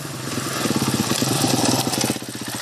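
Stock enduro motorcycle engine running with a loud, rough, rapidly pulsing mid-range drone that swells slightly in the middle.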